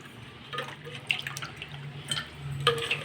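Water splashes and drips in short bursts as fish is rinsed in a basin, with a low steady hum in the background.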